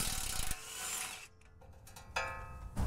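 Heavy impact wrench removing a 17 mm front brake caliper bolt on a Lexus GX470 during a brake upgrade, heard as loud bursts of rattling hammering at the start and end, with a quieter mechanical stretch between.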